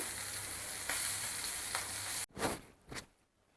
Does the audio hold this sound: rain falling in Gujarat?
no